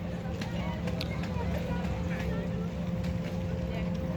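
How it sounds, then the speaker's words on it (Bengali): Launches and steamers move on the Teesta river, making a steady, moderately distant engine drone with faint wind buffeting. Voices are faintly present in the background. "অনেকগুলো লঞ্চ, স্টিমার এখানে চলাফেরা করছে"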